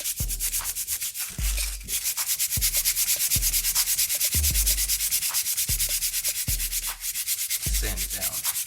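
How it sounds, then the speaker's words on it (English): A sanding block rubs back and forth across an ultra thin foam board in steady, close, fairly loud strokes, each pass a distinct scrape repeating at an even rhythm with no talking. "sometimes I go ahead and just use my sanding block"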